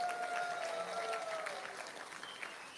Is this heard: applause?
yes